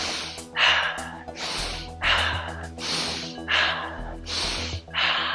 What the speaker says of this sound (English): As you can see, I'm just breathing.